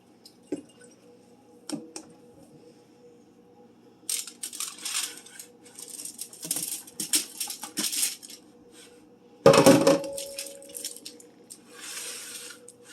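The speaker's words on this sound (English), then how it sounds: "Now we can dump the vegetables onto the sheet pan" Chopped vegetables tumble onto a metal sheet pan beside a pepper-and-garlic seasoned pork roast, a few light taps and clatters building to one loud scraping dump near the end, with quiet handling noises between.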